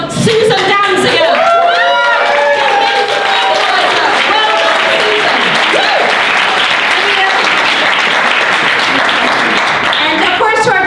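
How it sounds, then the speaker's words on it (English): A crowd at a hack day closing session gives loud, sustained applause, with whoops and shouts mixed into the clapping throughout, and voices rising over it in the first seconds. "can we have a huge round of applause for Susan Danziger?"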